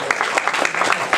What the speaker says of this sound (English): Let's give a round of applause to all 3 of our players.